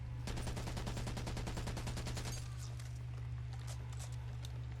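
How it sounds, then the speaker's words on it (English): Rapid gunfire at a nest in Back 4 Blood: a fast, evenly spaced automatic burst of about two seconds, followed by scattered fainter shots and impacts over a steady low hum. "I just shoot it."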